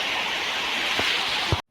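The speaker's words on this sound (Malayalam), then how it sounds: "വെള്ളത്തിൻ്റെ സൗണ്ടും നിങ്ങൾക്ക് ഇതിൻ്റെ കൂടെ തന്നെ കേൾക്കാം" Steady, broad rushing water roars continuously as a heavy flow pours over Vettathur Poonkavanam Dam, with a couple of faint low knocks before it cuts off.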